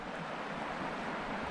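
A swollen creek at a park after a rise in the water, rushing in a steady, loud roar with no pauses and no voices.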